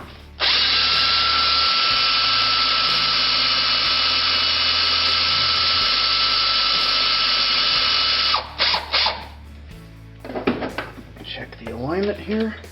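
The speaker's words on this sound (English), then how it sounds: "Come back with the drill." A power drill used on an Atlas lathe three-jaw chuck runs loud and steady for about eight seconds, then stops. Several short bursts and ratcheting clicks follow, with voices nearby.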